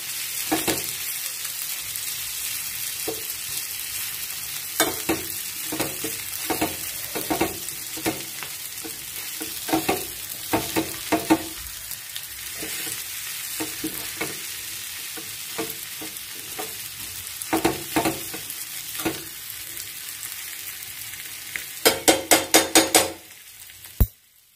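Samosa filling frying in a pan is stirred with a spoon, giving a steady sizzle broken by repeated scraping strokes, and a quick burst of scrapes comes just before it stops.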